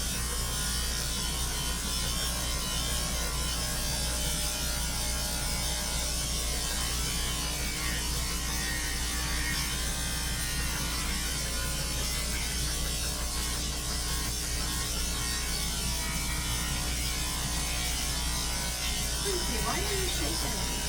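Electric dog clippers trimming a sheep-a-doodle, a steady close motor buzz running continuously throughout, with talking over it.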